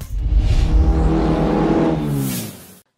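An old Soviet Moskvich rear-wheel-drive pickup, rat-look condition, drives off-road with a steady, close engine drone that swells slightly as it revs, then cuts off abruptly near the end.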